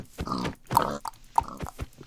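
A pig in Minecraft gives several short, close grunting oinks in quick, uneven succession, clear and fairly loud, with no one speaking over them.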